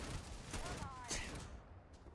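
Cobalt PR50 rifle fire in Starfield, a few quick shots close up under game noise and a voice talking.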